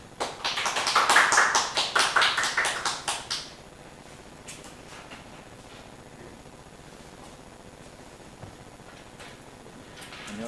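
An audience at a public climate-change lecture gives a short round of applause to welcome the speaker, a loud dense burst of clapping nearby that stops abruptly after a few seconds, leaving quiet room tone.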